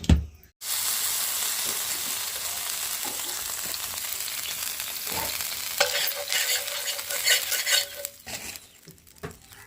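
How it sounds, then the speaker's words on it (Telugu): Dosa batter sizzling on a hot pan with a steady frying hiss, a few clinks and scrapes of a utensil, and no talking. "దోశ పోసేసుకున్నాం"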